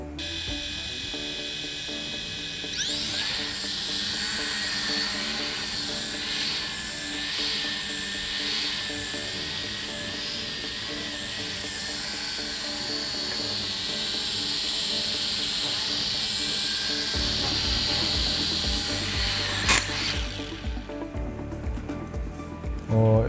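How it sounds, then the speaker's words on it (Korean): A small brainwave-controlled drone buzzes steadily for about seventeen seconds, a close, high-pitched whining rotor hum with a hissy edge, then cuts out abruptly into quieter room noise. "직접 이제 뇌파 드론이 비행하는 거를 한번 보여드릴게요"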